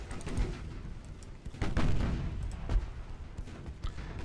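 Warship guns firing in Ultimate Admiral: Dreadnoughts, an 1890s British naval battle, with several booming reports scattered over a low rumbling background.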